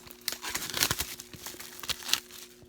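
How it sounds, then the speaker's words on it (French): Cardboard packaging holding DVDs and Blu-rays is unboxed up close, giving irregular crinkling, crumpling and tearing bursts with brief sharp peaks and no talk. "Donc, on déballe le boîtier."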